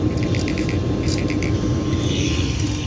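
A 2003 Carrier Bryant furnace inducer draft motor with worn bushings runs close by, a steady mechanical hum overlaid with rapid ticking and creaking clicks, with no voices.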